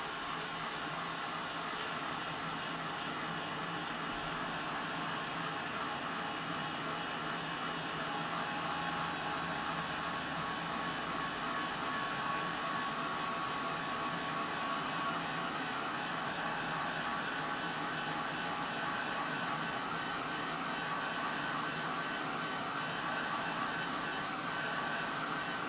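A hand dryer-style blower drying watercolour paint on a collage gives off a steady, faint airy whir that runs without a break for about twenty-five seconds, with no talking.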